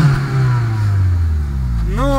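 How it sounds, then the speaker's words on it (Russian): A Honda Accord Type S four-cylinder engine revs up close, a steady loud drone dropping slightly in pitch, then climbing sharply at the end as the throttle is blipped. "Ну-ка, газани!"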